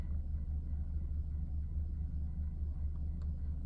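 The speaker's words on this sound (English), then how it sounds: "my car is on, so I don't know if you can hear me" Low, steady rumble of a car engine idling while parked, heard from inside the cabin, a constant close drone with no talking.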